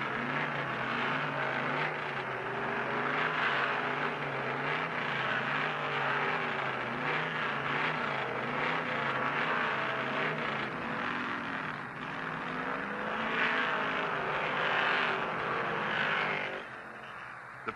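Mark Donahue's Penske AMC Matador and other stock cars roar around the track in a continuous engine drone, the pitch rising and falling as the cars speed past, with a sudden drop near the end.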